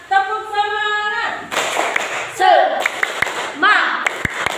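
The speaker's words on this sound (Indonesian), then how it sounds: "Tepuk semangat." Children in a primary school classroom doing a rhythmic spirit clap, sharp bursts of hand claps in short patterned groups close by, with a teacher's and children's voices chanting between them.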